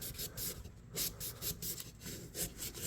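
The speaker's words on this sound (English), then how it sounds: "Do some sanding." Sandpaper scrubbing a knife blade during refurbishing, quick rhythmic back-and-forth rasping strokes, close and fairly faint, about two strokes per second.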